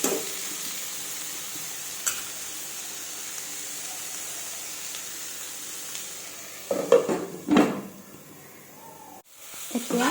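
Fried eggplant is stirred into cooked leafy greens in a pan, giving a low, steady scraping and soft sizzle with a few louder clattering stirs near the end.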